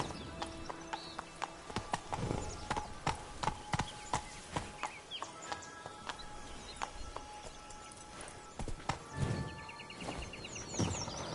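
Roach the horse's hooves clip-clopping in The Witcher 3: Wild Hunt, a steady run of sharp hoof strikes with an occasional whinny, set against ambient birdsong and game music.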